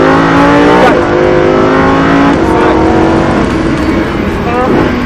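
Loud, close engine of a Lamborghini Huracan on the Circuit J-P Beltoise, climbing in pitch with two sharp gear changes as it accelerates, with a driver talking over the roar.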